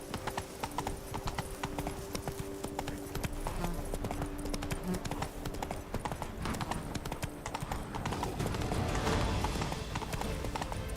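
A horse gallops in a video game with fast, steady hoofbeats throughout, close and loud under faint game ambience, with a brief spoken voice over it.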